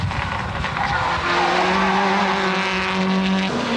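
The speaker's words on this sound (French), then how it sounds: "on retrouve Grégoire Demévius et sa Subaru WRC" Grégoire Demévius's Subaru WRC rally car at the 1998 Ypres Rally skids with a sustained tire squeal over a steady roaring engine, loud and continuous throughout, with a commentator's voice faintly mixed in.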